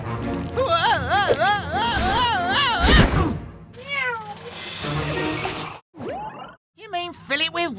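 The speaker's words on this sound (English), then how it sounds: "Meow." An animated cartoon cat meows in a run of bright, wavering calls, loud and close, with a few short drawn-out mews after brief pauses.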